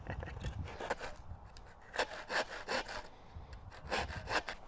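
Rhythmic back-and-forth hacksaw strokes through a wooden plank, coming in short bursts with brief pauses between them, close to the listener.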